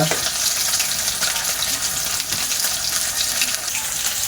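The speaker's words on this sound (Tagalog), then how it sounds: "Ipiprito po natin sa mga kalingap." Kalingap frying in a pan gives a strong, continuous sizzle and hiss with a bubbling, watery texture, close up and steady throughout, with no voices over it.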